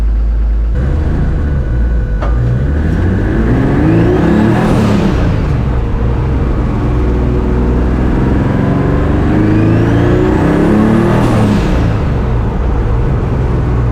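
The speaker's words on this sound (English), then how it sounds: "I'll drive it around, just cruise it, and see if I can get it to burble again." A street-driven performance car with a blown head gasket cruising by, its loud engine droning close up and rising and falling through two revving pull-aways, a deep exhaust rumble underneath throughout.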